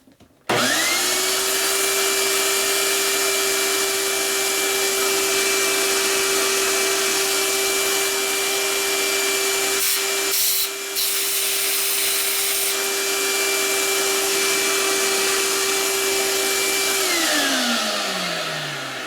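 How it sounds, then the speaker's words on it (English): A vacuum cleaner runs steadily and loudly close by, sucking up debris as air blows it out of a hole. It starts abruptly, drones on a stable whine for about seventeen seconds with a brief dip near the middle, then winds down at the end. "this vacuum cleaner sucks it up as it blows on it"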